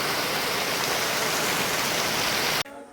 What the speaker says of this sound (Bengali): দেখছি কী পরিমাণ বৃষ্টি হচ্ছে।